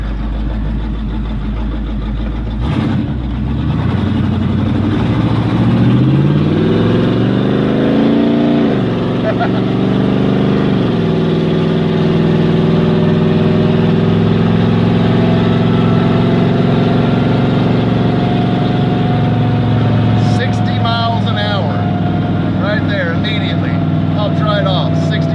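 A Chevy 350 four-bolt-main V8 in a 1995 Jeep Wrangler YJ, still being broken in, runs with a steady, deep idle that rises briefly early on and then settles, close and continuous, with a few faint clicks near the end.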